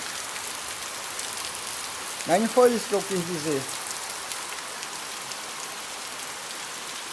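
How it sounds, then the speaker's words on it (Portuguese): Out-of-season rain falls in a steady, even hiss close around, with a brief spoken remark partway through before the rain continues alone. "Aí ele só manda a chuva para destruir."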